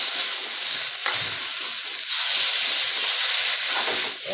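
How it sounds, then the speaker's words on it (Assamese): Potatoes frying in a pan, a close, steady hissing sizzle that holds throughout with faint stirring underneath. "এয়া আলুখিনি ভাজি ল'লোঁ মই"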